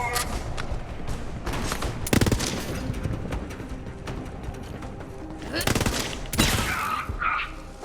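Video game gunfight with grenades lobbed at the player, rapid bursts of gunfire and heavy blasts, loudest near two and six seconds, playing over a dense battle bed with a voice talking.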